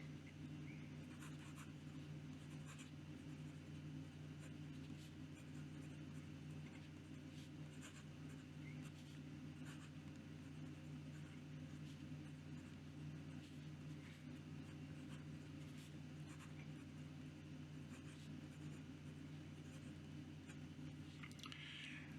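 A WingSung 699 vacuum-filling fountain pen nib, wet with Diamine sapphire blue ink, drags on paper in a faint, continuous scratchy whisper of strokes over a low steady hum.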